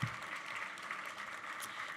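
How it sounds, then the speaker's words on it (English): Audience applause at an awards ceremony, a steady wash of clapping from a crowd in a hall, fairly even and moderately loud throughout the brief stretch. "Let's give another round of applause for the Cradle of Aviation."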